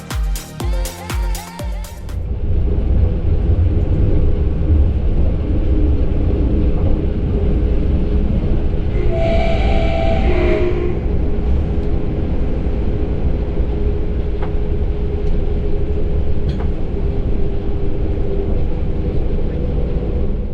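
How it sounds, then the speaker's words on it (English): An Omnéo Premium train runs toward Paris with a steady, loud rolling rumble that continues throughout, after a brief pulsing mechanical sound at the start. "we can listen to the sound of our train once again"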